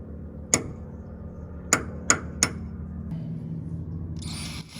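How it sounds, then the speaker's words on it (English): Four sharp metallic hammer strikes ring out, one then a quick cluster of three, on a 1.5 mm punch against a broken engine stud, followed by a short whirring noise. "We're gonna punch it, drill it, and use an extractor to back it out."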